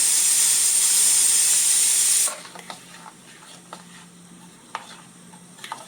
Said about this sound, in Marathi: हे आता मी व्यवस्थित कालवून घेते गुठळ्या न होता